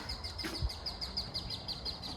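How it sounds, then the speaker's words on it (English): Birds chirp outdoors around a house in San Antonio, faint, quick, high calls repeating in a regular rhythm over a soft background hush, with one low thump partway through. "I'll just be quiet and let you listen to the beautiful birds"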